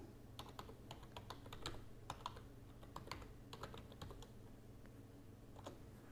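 Steady, quick typing on a computer keyboard as a search query is entered, with irregular clicky keystrokes over a low background hum and no talking.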